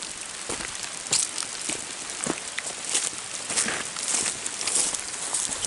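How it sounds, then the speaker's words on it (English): Rain falls outdoors, pattering steadily on the surroundings as a dense hiss with scattered sharper drops, fairly close and uninterrupted by talk. "Raining good, raining good."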